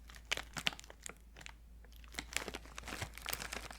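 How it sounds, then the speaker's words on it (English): A plastic container holding pretzels crinkles and crunches close up in a quiet room, with irregular sharp crackles and soft rustles spread through a few seconds. "so it's not only plastic, but some crinkling"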